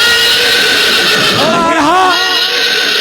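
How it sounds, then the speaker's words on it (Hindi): A horse neighs loudly close by, a rising and falling whinny over a steady loud background hum, with talk in the scene. "वो देखो लम्बादार जी का घोड़ा आ रहा है"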